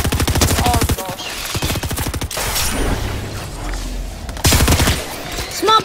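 Rapid automatic gunfire in an online shooter video game, heard as loud, dense bursts of shots with short gaps and a quieter stretch between them, and no speech over it.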